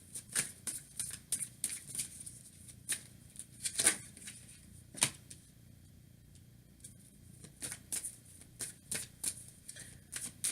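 Tarot cards being shuffled and drawn during a Pisces reading, with repeated soft papery riffles and snaps of card against card, close and fairly quiet, arriving in irregular bursts with brief pauses in between.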